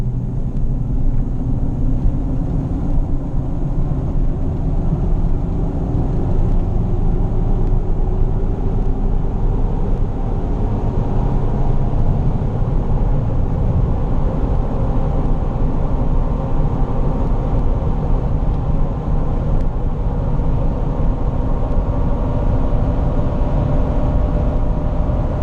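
A car rolls along on new unbalanced tires, giving a steady loud low rumble of road and tire noise with engine drone from inside the cabin, unbroken and with no talking.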